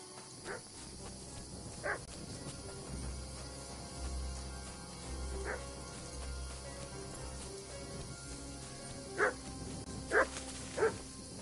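A dog in the medieval video game Kingdom Come Deliverance gives a few scattered barks and yips, fairly faint over steady ambient noise, with a quick cluster of barks near the end.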